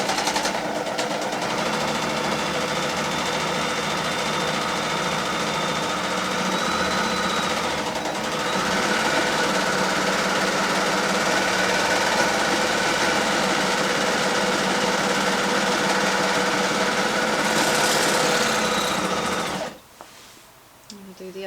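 A sewing machine runs a zigzag stitch along a dress seam, a close, steady mechanical whirr that holds for about twenty seconds with a brief dip midway before stopping abruptly.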